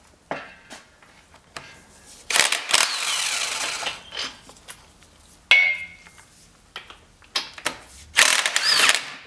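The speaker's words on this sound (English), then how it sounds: "a 21 millimeter or a 13/16 socket will take those off" A socket wrench ratchets in quick clicking runs as a 21 mm or 13/16 socket takes off axle bolts on a Ford F250 Super Duty front axle, bursts of clicks and metal clanks up close, separated by brief pauses.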